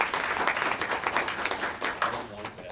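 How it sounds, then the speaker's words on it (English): Audience applause for panelists closing a university panel session: many hands clapping in a dense, close, fairly loud burst that rolls on steadily and begins to thin near the end. "Let's have another round of applause for our panelists"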